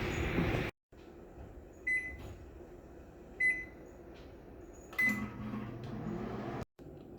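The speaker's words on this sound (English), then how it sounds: "pop it in the microwave for 60 seconds" A microwave heating a distilled-water solution for 60 seconds hums steadily at low volume, with a few short beeps and clicks breaking through the drone.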